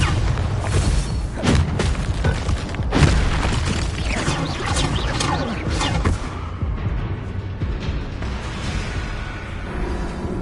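A Bombarda spell detonating in Hogwarts Legacy: loud, dense booming bursts that hit repeatedly over a continuous rumbling game soundscape, then thin out toward the end.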